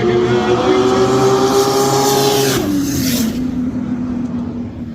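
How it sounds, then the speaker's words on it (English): A dark grey Ford Falcon roars past a silver car in a roll race, its loud engine note sustained then dropping sharply in pitch as it passes close by, with a second engine droning underneath. "The dark grey Ford Falcon lane 2 just drove around the silver car to take the win."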